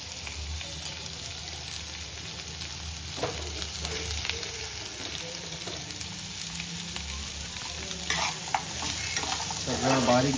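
Cashews and masala roast on a low flame, giving a soft, steady sizzle with occasional stirring scrapes and light crackles and no talking.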